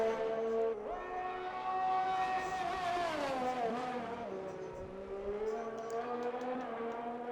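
A Formula 1 car at Imola in a racing video game screams past the finish line, its engine note rising and falling loudly as it passes, with no talk over it.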